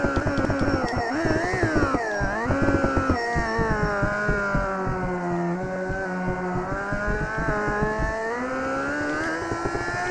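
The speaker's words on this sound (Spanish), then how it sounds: "¿Os gusta el sonido de la Suzuki?" A Suzuki superbike's engine screams through sustained high revs and rapid gear changes during superbike racing, loud and close, with rising and falling pitch across the run.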